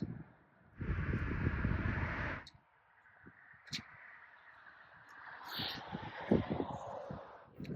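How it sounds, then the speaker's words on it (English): Heavy wind buffets outdoors in gusty rushes, a loud blustery roar at first that drops away and then returns more softly with scattered rustles and bumps. "This wind is heavy"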